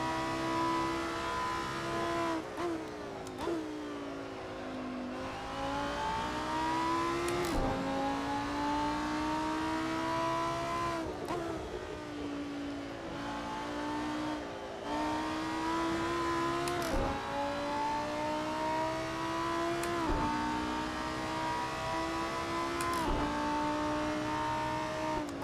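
Lamborghini Super Trofeo race car engines in a sim racing game at Donington Park: a loud, continuous near engine howl that rises and falls through repeated gear changes, with steady background drone and no talk.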